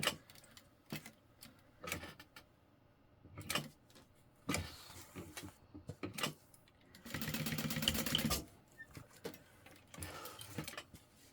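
A sewing machine stitches a box seam on a handbag in short bursts, with scattered clicks and handling sounds between them and one longer steady whirring run near the end, all close and fairly quiet.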